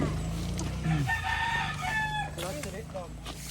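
A chicken clucks and crows close by on a farm, its calls standing out over a background of low rumble and faint voices.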